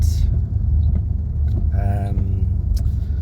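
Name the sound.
Mercedes S550 engine rumble with aftermarket mufflers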